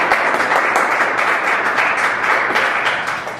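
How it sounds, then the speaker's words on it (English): Loud, sustained applause from a crowd, with many hands clapping densely and evenly before tapering off slightly at the end. "ask that everybody join me in a round of applause"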